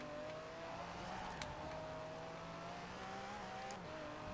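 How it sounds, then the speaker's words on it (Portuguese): An Aston Martin DB11 accelerates in the Forza Horizon 4 racing game, a steady engine drone with rising tonal whine held at moderate level for several seconds, no talk over it. "É muita aceleração para um carro só"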